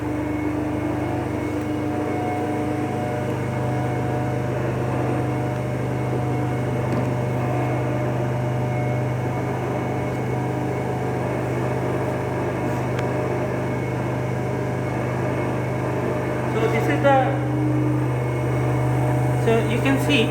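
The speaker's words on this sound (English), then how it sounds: "So here the speed of the DC shunt motor is more than 1500 rpm. We will decrease the speed by varying the rheostat." A DC shunt motor runs steadily in a lab with its speed being lowered by a rheostat, giving a constant close-up hum and whine with a smooth, unbroken drone throughout.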